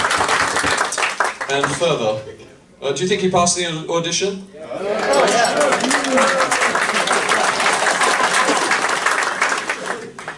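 Audience applause at a jazz concert after a hot trombone set at Whitley Bay, a room of clapping building after a short spoken line and running loud and steady to the end.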